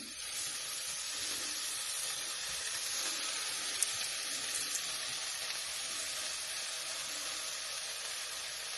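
Bacon fries in a pan on the stove, giving off a steady, dense crackling sizzle that holds at an even level throughout, with no voices.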